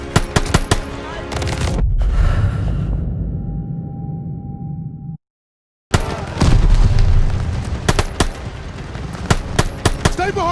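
Bursts of machine gun fire and heavy booms in a World War II battle from the game Call of Duty: Vanguard, loud and close, with a brief silent gap before the rapid gunfire resumes.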